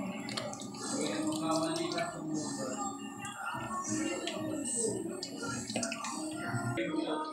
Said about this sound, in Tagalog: buhos na natin yung mahiwagang mantika